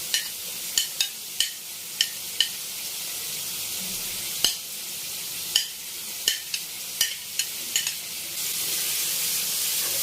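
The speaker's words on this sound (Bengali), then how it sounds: "ক্যাপসিকামটাও আমি সব কিছুর মধ্যে আরও 30 সেকেন্ড ভেজে নেব।" Capsicum fries together with shrimp and softened tomatoes in a pan over low heat, a soft steady sizzle punctuated by about a dozen sharp taps and scrapes of a spatula against the pan.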